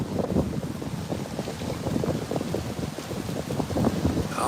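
Gusty wind buffets the microphone at a beach lifeguard tower in Playa del Carmen, with a low, rumbling roar that holds steady throughout, with no voices.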